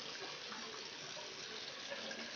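Water runs from a small bathroom faucet in a newly renovated bathroom, a steady close hiss of flow that continues unbroken and alone throughout.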